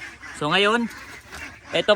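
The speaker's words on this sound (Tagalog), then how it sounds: "may marinig yung ingay ng gansa" A single loud, nasal goose honk rings out close by, sliding in pitch, followed by people talking nearby.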